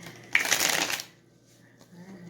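Tarot cards are shuffled in one brisk, close riffle lasting about half a second, followed by quiet with a faint shuffle of movement.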